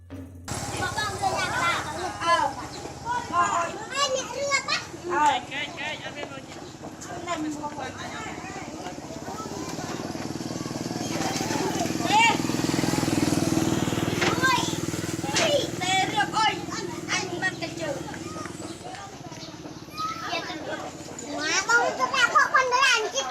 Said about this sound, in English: Watching the kids play.